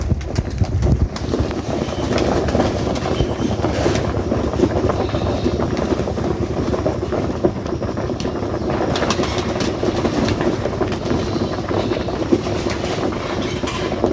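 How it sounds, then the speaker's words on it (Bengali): A train runs past steadily for the whole stretch, a continuous loud rumble with rattling and clatter of wheels and cars, near the listener, with faint bird sounds in the background. "ট্রেনের শব্দ হচ্ছে"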